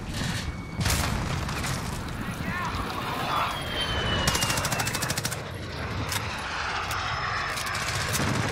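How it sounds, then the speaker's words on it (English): A friendly VTOL aircraft drones overhead in a Call of Duty Modern Warfare match, with rapid automatic gunfire and a jackhammer-like rattle around it, loud and continuous, and voices talking over it. "Friendly VTOL on station for Overwatch"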